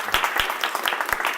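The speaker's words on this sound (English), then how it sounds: "He comes in, he gets a big clap." Applause for a senator arriving at a workers' rally in a state house library: a short burst of quick, uneven clapping from a small crowd, close and lively.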